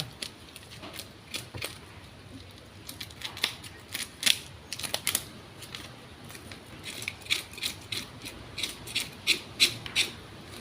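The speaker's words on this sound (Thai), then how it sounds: "ถ้าขูดก็ต้องใช้ช้อนนะคะ ใช้มีดก็ไม่ไม่สะอาด" Scaly snakehead fish being scraped with a spoon makes a run of quick, rasping strokes, soft at first and growing more regular and louder toward the end, heard close up against a faint background hiss.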